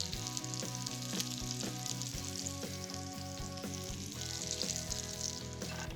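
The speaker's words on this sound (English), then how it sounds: "Adding our olives to our sauce." Olives frying in a sauce in a pan give a steady, continuous sizzle that sits under rhythmic background music, with no voices.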